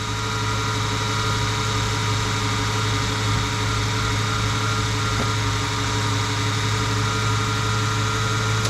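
A Ford Mustang 3.8L engine idles with a misfire that shows up when hot, a steady low rumble heard close by that runs unbroken throughout, with faint uneven dips in the drone and no talk.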